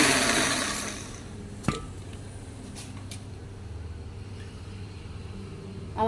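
An electric beater whirs loudly through banana, cooking oil and sugar for about a second, then fades to a faint hum, with one sharp knock partway through.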